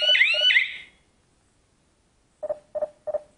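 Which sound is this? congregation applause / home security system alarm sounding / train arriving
home security system alarm sounding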